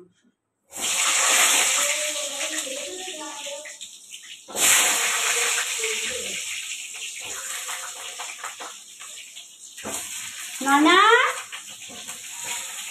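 Goat meat frying in oil in a pan with potatoes for a curry, loud hissing sizzle bursts that swell and fade in waves, close by, with a voice speaking briefly over it.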